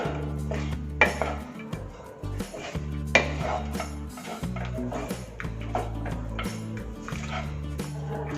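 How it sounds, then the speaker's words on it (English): A spoon stirs and scrapes lemon juice through cooked rice in a metal pan, giving repeated clinking knocks and scraping strokes at an irregular rhythm, close up and moderately loud. "I am adding lemon juice now and mix well."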